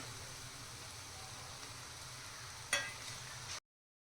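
Til poli, a sesame flatbread, roasts in ghee on a hot pan over a medium flame, giving a steady, quiet sizzle with one brief clink partway through before the sound cuts off abruptly.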